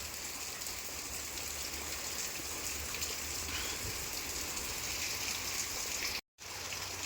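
Steady rain pours down without a break during an ongoing monsoon spell over farmland, a dense, even hiss of drops and runoff at constant loudness with no voices, cut by a brief dropout of total silence near the end.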